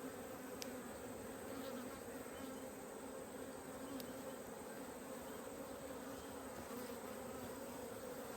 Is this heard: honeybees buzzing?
yes